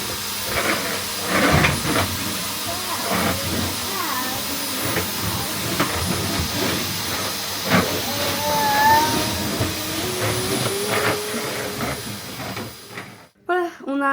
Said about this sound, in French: Il aspire bien l'aspirateur.